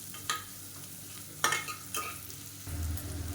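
Crushed garlic sizzles gently in a pan, with a few sharp scraping stirs of a utensil; steady frying hiss throughout, close and fairly quiet.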